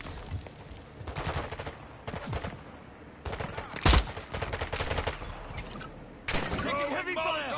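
Heavy gunfire in Spec Ops: The Line, with repeated bursts of automatic fire and a sharp louder crack partway through, as voices talk over the shooting.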